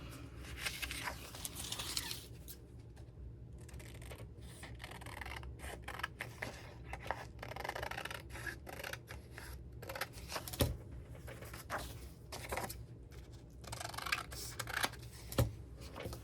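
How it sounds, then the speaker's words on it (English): Scissors trim around a digitally printed paper image laid sideways on wallpaper, giving close, soft, irregular snips and paper rustle over a low background hum. "Just lay it on there sideways and trim around it."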